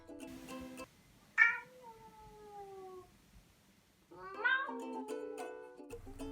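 A pet cat gives a few drawn-out meows close by, one long falling cry followed after a pause by another wavering, insistent yowl, set against faint background music, with no talking.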